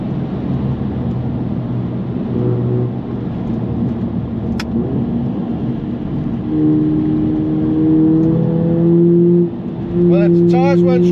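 A 2.0 VW Polo GTI accelerates hard through corners on a country road. Its engine note holds steady, then climbs in a rising rev and repeats loud and close, with brief clicks near the end.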